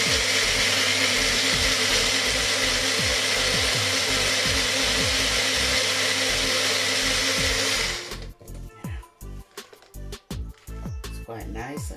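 A bullet blender whirs loudly and steadily while blending pineapple for homemade ice cream, then cuts off after about eight seconds, leaving clattering knocks and rattles of the cup and blade.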